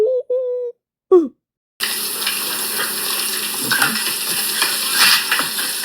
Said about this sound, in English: And then just stir.